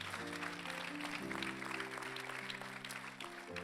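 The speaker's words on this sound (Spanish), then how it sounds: "Damos ese aplauso fuerte." Church congregation applauding during a worship service, a steady wash of clapping that fills the whole stretch, with sustained keyboard or organ chords held underneath.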